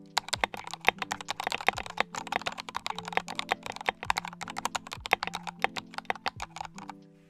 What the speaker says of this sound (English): So we'll do a quick sound test of this keyboard.